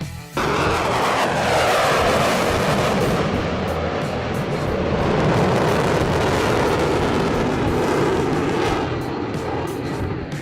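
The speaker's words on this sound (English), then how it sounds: "The Lockheed Martin F-22 Raptor." Lockheed Martin F-22 Raptor fifth-generation fighter jet in flight, a loud, sustained broadband jet roar that holds steady throughout with no voices over it.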